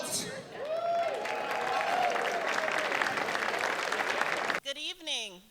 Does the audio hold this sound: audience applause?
yes